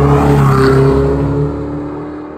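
A Ferrari 488 GTB engine drones loud and close with a strong tonal hum on a mountain road, holding steady and then fading gradually as the car pulls away.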